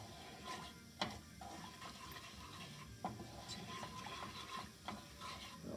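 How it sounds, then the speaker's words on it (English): Spice mix stirred into a curry paste in a pan, a faint soft scraping and stirring with occasional knocks of the spoon over a steady low sizzle. "Take it just about half a minute to mix and make a nice curry paste."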